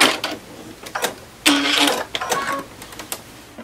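Sewing machine stitching pieces of quilt fabric for triangle geese blocks, heard as short close bursts of mechanical whirring and clatter separated by pauses, with one longer run in the middle.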